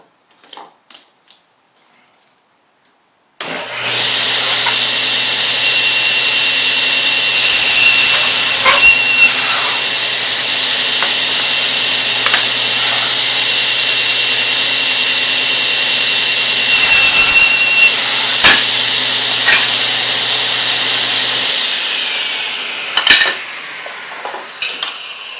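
A power saw squares off the ends of a board, spinning up to a loud, steady whine that holds for about eighteen seconds, with brief harsher surges while the blade bites into the wood, then winds down to scattered clicks.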